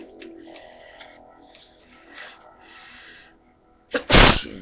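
A single loud, explosive sneeze bursts out near the end, after a stretch of quiet background noise and faint murmuring.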